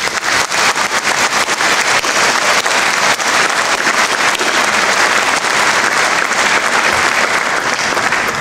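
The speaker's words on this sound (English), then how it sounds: "give yourselves a warm round of applause" Graduates at a university graduation ceremony for the Faculty of Computing, Engineering and Built Environment break into loud, sustained applause from a large hall crowd, steady and dense throughout.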